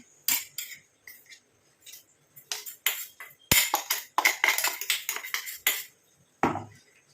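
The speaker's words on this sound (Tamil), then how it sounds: "இப்போ இந்த தட்டில் நான் சளிச்சு எடுத்துக்கிறேன்" Ground mustard and black cumin powder are sifted onto a plate, giving a run of scratchy, rustling metallic taps and shakes in irregular bursts, close and fairly quiet, with no voices.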